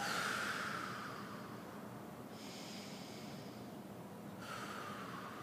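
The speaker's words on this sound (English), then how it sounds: "Let the feet and the palms fall out. And take some deep breaths." Slow, deep breathing during a restorative yoga stretch for the chest and low back: long, airy inhales and exhales close by, with a soft hush between breaths and no talking.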